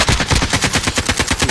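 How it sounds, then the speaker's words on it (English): Rapid automatic gunfire in the video game Warzone, a steady burst of loud, close shots firing evenly without a break. "Somebody's shooting at him too."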